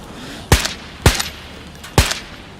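Three sharp, loud gunshots in the video game DayZ, fired singly about half a second to a second apart, each a hard crack with a brief rattling tail, over quiet background and no talk.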